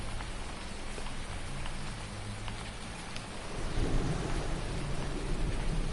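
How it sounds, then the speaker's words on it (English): Thunder in the farming game Farming Simulator 19, a low rolling rumble over steady rain hiss that swells louder in its second half, with no talking. "there's a rumble of thunder"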